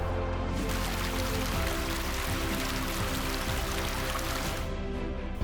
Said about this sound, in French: Je longe un petit torrent qui va venir renforcer le début de la cascade de Cotatuero.